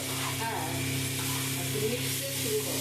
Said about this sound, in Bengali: নুন দিলে কিন্তু পেঁয়াজটা কিন্তু তাড়াতাড়ি ভাজা হয়ে যায়